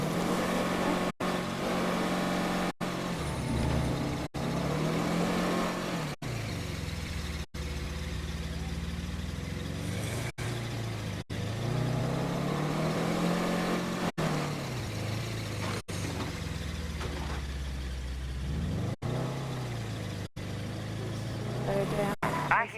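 A vehicle engine in State of Decay 2 hums and revs through a drive, rising and falling in pitch as it accelerates and slows, heard steadily at moderate level with occasional brief dropouts and a voice speaking over it.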